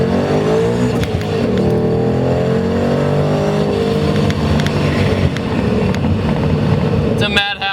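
Procharged Ford Mustang GT with a Coyote V8 pulls from inside the car at low revs, a close, steady engine drone that rises gently in pitch and then cuts off abruptly near the end.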